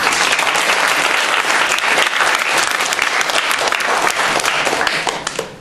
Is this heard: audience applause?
yes